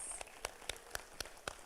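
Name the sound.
audience applause at a recognition ceremony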